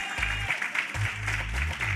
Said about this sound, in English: Clap your hands again for the George Foundation.